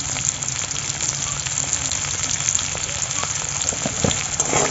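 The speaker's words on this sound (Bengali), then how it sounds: "একটু ভেজে নেব" Whole hog plums frying in oil with salt and turmeric give a steady, close sizzle that holds evenly throughout, with faint crackles and no voices.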